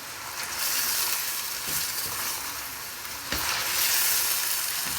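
A kilo of chicken frying uncovered in an open pan over medium-high flame for korma, a loud, steady hiss and sizzle with occasional stirring scrapes, close up and without speech.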